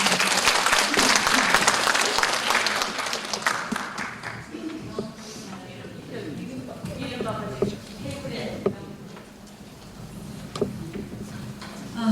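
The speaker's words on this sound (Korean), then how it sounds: "큰 박수로 환영해 주십니다" At a civic gathering, an audience welcomes a presenter with loud, dense applause that dies down after about four seconds, giving way to murmurs, movement and a few stray claps.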